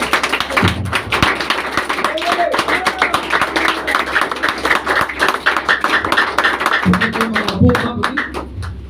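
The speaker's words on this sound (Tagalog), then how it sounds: "Naman yung malakas na palakpak sa Panginoon." A church congregation claps loudly for the Lord during a worship service, a fast, sustained patter of many hands with voices heard through it.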